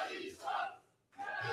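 A wrestling crowd at a pro wrestling show shouts in loud collective bursts, a roaring chant that dips briefly to near quiet before surging back.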